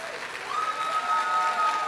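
Cheering and applause rise from a church congregation at an evening worship service, a steady crowd roar with a high sustained whistle-like tone running through the middle, moderately loud and without speech.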